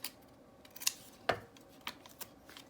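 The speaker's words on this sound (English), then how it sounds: "I'm gonna cut it here." Scissors snipping through paper from junk mail envelopes, a few close, crisp cuts spaced irregularly in an otherwise quiet room.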